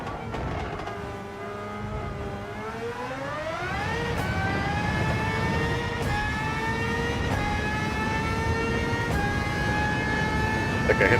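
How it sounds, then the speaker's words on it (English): Racing car engine in Gran Turismo 7, taking a wide line and hitting the rev limiter: a sustained, loud engine whine climbs in pitch, then holds near the top with brief stutters and dips, running steadily throughout. "I think I hit the rev limiter."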